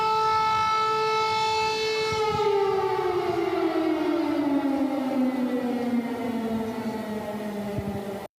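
An air raid siren wails over Kyiv, a loud sustained tone that holds steady and then slowly falls in pitch, sounding alone over a faint city background.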